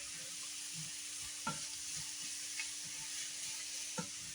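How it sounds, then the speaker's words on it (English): Ground turkey with sliced onions and peppers in an Asian-style stir-fry, sizzling with a steady close hiss. A few soft stirring clunks mark the sizzle, and no one talks. "I'm doing an Asian stir-fry twist here with ground turkey."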